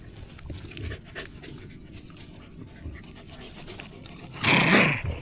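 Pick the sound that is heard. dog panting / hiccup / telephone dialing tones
dog panting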